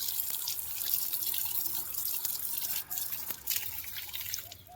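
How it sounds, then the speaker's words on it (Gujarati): Bael leaves being washed in water for a Shivratri puja, faint trickling and scattered drips with a few soft splashes, quiet and close throughout. "ગુરુજી એમ કીધું છે કે બીલીપત્ર ધોઈ નાખજો"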